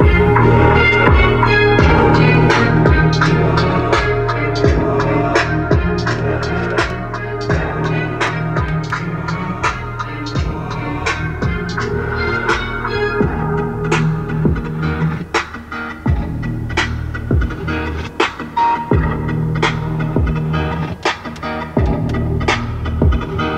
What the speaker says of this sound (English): a 540 watt, 12 speaker premium audio system